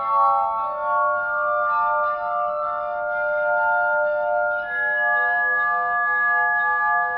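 A glass harmonica played with a steady sustained ringing tone, several pure overlapping pitches humming together, shifting to a new chord partway through and holding it evenly to the end.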